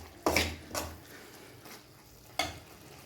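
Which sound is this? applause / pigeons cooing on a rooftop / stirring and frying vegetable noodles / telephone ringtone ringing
stirring and frying vegetable noodles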